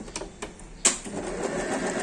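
An Usha sewing machine run by its foot control makes a few light mechanical ticks, then a sharp clack as it starts into a steady, close motor whir of stitching.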